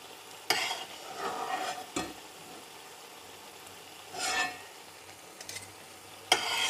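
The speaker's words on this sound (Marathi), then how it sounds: "आणि ह्याच पद्धतीने राहिलेले सगळे कटलेट मी फ्राय करून घेते" Corn cutlets fry in a pan, a soft ongoing sizzle punctuated by several sharp scrapes and clinks of a spatula moving the crisp patties, fairly quiet and close.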